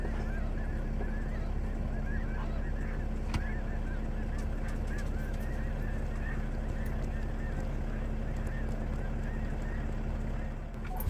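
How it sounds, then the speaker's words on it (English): A large flock of geese and other birds honking continuously in western Arizona, a dense, steady chorus of many overlapping calls throughout, with faint human voices now and then underneath. "There's a whole lot of birds out there of all types."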